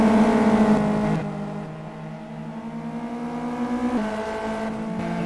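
Race car engines in the Simraceway racing game, a steady droning whine that shifts pitch as the cars run side by side through corners, loud and continuous with no talk.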